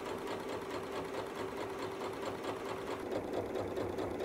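A sewing machine runs steadily, stitching Christmas stocking fabric with a continuous, even mechanical whir and rapid needle chatter, close and alone without voices.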